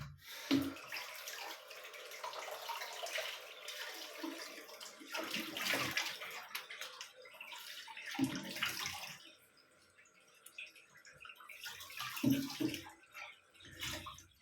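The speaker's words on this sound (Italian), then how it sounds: "Nel frattempo vado a sciacquare la faccia" A water tap runs in a bathroom sink while someone rinses their face after shaving, with splashes and steady close flow that swells and eases in bursts.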